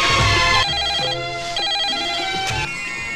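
A phone rings out over a comic Marathi skit's background music, the repeated electronic ringtone tones sounding loud and close for about three seconds with no talking.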